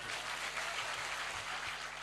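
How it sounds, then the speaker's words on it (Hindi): Audience applause at an Urdu poetry mushaira, the Ganna Sansthan Mushairah of 2016, heard as a steady, dense wash of clapping from a large crowd that holds evenly throughout without any voices over it. "पूरा मजमा मुझे तालियां बजाकर इजाजत दे"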